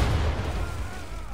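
Ship cannon fire in the Assassin's Creed III naval battle game, a single deep booming blast that rolls out with a heavy low rumble and slowly fades.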